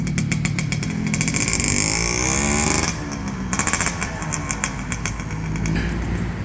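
A 1990s-style motorcycle engine runs close by during a test ride, a steady buzzing drone that drops briefly partway through, then returns with uneven revving pulses.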